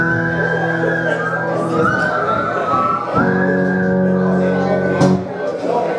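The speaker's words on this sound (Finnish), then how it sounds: "Kaikki osaa vihellä." A group of people whistle a tune together during a live performance by a musical trio, a steady melodic whistle over instrumental accompaniment, with voices mixed in.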